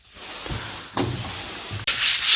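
A painted wall is scrubbed or sanded to clear dust before the final paint coat, heard as steady rubbing strokes with a few distinct, louder swipes close by.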